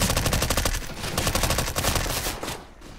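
SMG fire in the game CS:GO, rapid sustained bursts of closely spaced shots rattling loudly and evenly before tapering off near the end.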